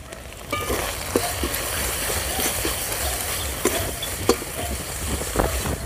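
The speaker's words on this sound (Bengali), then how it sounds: "ভালো করে মশলাটা কষিয়ে নেব।" Spice paste with chopped tomato, salt and turmeric frying hard in oil for a village-style bata fish curry: a continuous loud sizzle broken by repeated sharp scraping stirs of the spoon.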